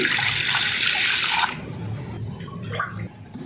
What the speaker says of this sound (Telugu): పప్పుకి తగిన తగినంత వాటర్ వేసుకోవాలి